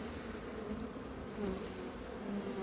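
A honey bee swarm drones with a dense, steady buzz during a swarm capture, close and continuous throughout with a slight rise in intensity midway, no voices heard.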